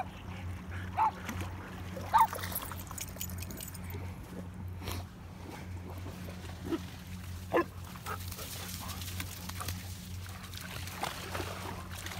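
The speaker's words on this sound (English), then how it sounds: "So that barking dog will probably make Zeke upset" A dog barks a few times during an afternoon dog walk, short sharp barks spaced several seconds apart and moderately distant, over a low outdoor background hum.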